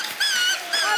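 A human voice imitates a small puppy whimpering, two high wavering whines in quick succession, close and fairly loud.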